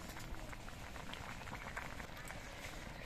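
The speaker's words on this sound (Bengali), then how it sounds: "এবার রাঙা আলুগুলোকে সেদ্ধ করে নিতে হবে" Sweet potatoes boiling in a pot of water on a low flame, a steady soft bubbling and simmering hiss that holds evenly throughout, fairly quiet.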